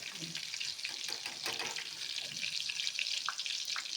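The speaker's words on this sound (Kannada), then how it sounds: "ಬೇಗ ಫ್ರೈ ಆಗಬೇಕು ಇದು ಈಗ ನಾನು ತೆಗಿತಾ ಇದ್ದೀನಿ" Prawns for prawns 65 fry in hot oil with a steady, dense crackling sizzle that fills the whole stretch, with occasional small pops and scrapes close by and no talking.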